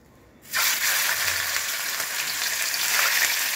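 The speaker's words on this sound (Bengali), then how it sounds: "এটা রুই মাছের পেটি যেহেতু হালকা ফ্রাই করব" Loud, steady sizzling of rohu fish belly frying in hot oil, starting abruptly after a brief quiet moment and continuing without pause.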